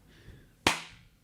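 A single sharp hand clap rings out close and loud in a quiet room, a crisp transient that decays quickly with a short room tail.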